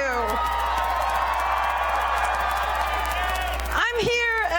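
A large outdoor rally crowd in Venice, Los Angeles, cheers, whoops and claps loudly and without a break, and the roar swells before a voice cuts in near the end.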